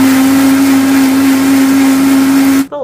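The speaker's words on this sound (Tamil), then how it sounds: "மிக்ஸியில் அடித்து கொண்டு வரேன்." A kitchen mixer grinder blends mint, curry leaves, ginger, cucumber and water with a loud, steady high whine that holds for nearly three seconds, then cuts off abruptly as the motor winds down.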